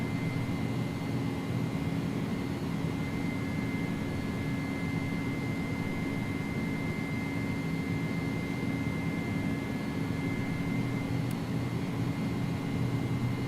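A simulated iniBuilds A300 jet in X-Plane 11 roars steadily on departure, a constant broadband engine drone with a thin whine held throughout, no speech.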